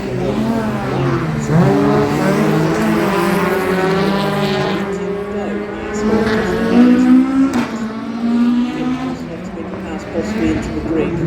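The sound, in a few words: Ford Escort rally cars racing on dirt section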